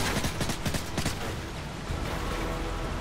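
Rapid gunfire in Call of Duty: Modern Warfare 3, a burst of several quick shots in the first second or so, then fading into a steady, dense background of battle noise.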